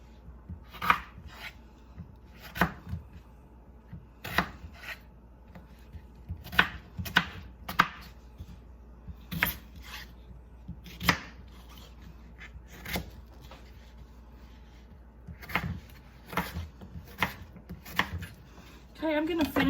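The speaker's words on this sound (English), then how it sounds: "I'm gonna finish chopping up all these potatoes" A knife chops potatoes on a cutting board in a home kitchen, about a dozen sharp separate knocks at an uneven pace with short quiet gaps between them.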